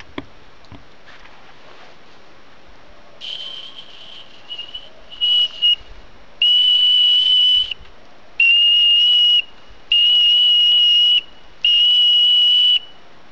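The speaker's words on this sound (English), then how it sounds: "A whistle from an old aluminum can out in the bush." A homemade pea whistle cut from an old aluminum can, blown outdoors in the bush: a few soft, uneven tries, then about five loud, shrill, sustained blasts separated by short pauses.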